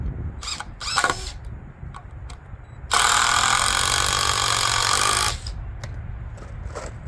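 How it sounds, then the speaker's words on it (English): Impact drill driving hex head deck construction screws into wall framing lumber, one sustained loud hammering burst of about two seconds after a few short clicks and knocks. "you want to use like an impact drill for them"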